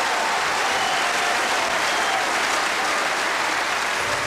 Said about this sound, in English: As the capacity crowd go completely mad.